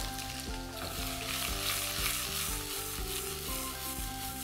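Onions sizzle and fry steadily in a hot pan with black pepper and curry leaves for a South Indian egg roast masala, a dense continuous crackle with soft stirring, close and alone without any talk.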